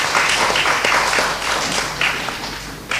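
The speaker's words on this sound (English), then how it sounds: "We'd like to call for another round of applause." An audience applauds at the close of a roundtable discussion on liberty as an Islamic value, clapping dense at first and thinning out toward the end, fairly loud with no talk.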